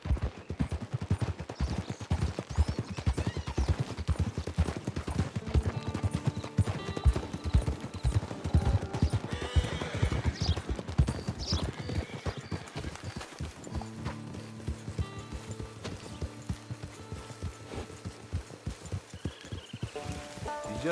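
Horse hooves clip-clop in a steady galloping rhythm throughout Red Dead Redemption 2, loud and close, with a brief whinny and scattered game sounds layered under the continuous hoofbeats.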